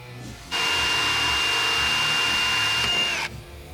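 A 1.25 inch hole saw bores through a fiberglass hood on a 1992–96 Ford Bronco or F-series truck, giving one steady, close, high-pitched whirring whine of about three seconds that starts and stops abruptly.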